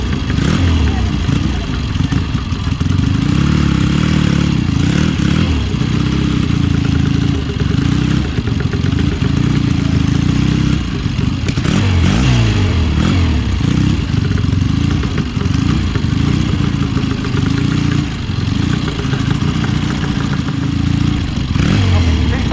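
Several classic motorcycles at a car and motorcycle show, an AJS leading, idle and then pull away. Engines rumble loud and near with uneven clatter and revs, and a voice speaks briefly.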